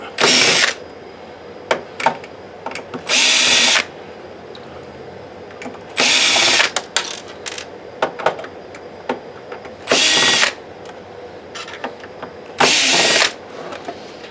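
A power drill backs screws out of a Sanyo PDG-DHT100L DLP video projector during a teardown, with five loud whirring bursts of a second or so each, separated by quieter handling clatter.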